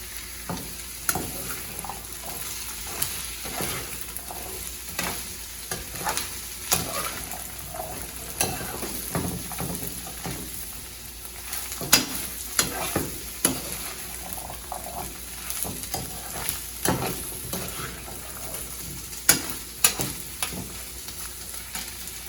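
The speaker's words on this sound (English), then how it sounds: "Now you want to go ahead and give that a nice stir." Chickpeas fry in a pan while a utensil stirs them, repeated scrapes and clinks running irregularly over a steady low sizzle, close but fairly soft, with no talking.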